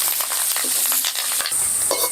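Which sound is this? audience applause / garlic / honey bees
garlic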